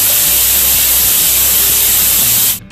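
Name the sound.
pressure cooker whistling and releasing steam while cooking tomato rice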